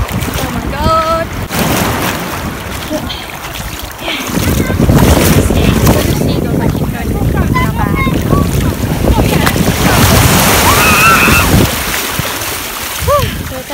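Ocean waves wash steadily around a boat in open water, mixed with heavy wind buffeting and occasional voices and brief tonal sounds across the whole stretch.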